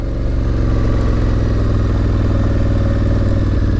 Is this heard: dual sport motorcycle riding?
yes